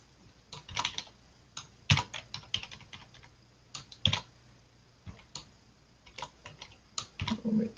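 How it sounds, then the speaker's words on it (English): Irregular clacking keystrokes on a wireless computer keyboard, close and fairly loud, in short bursts with brief pauses and no talk. "I typed everything I didn't want there"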